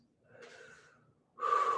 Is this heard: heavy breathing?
yes